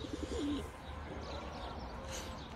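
A young Sabuni tumbler pigeon gives a short, soft coo near the start, followed by faint chirps over quiet background noise.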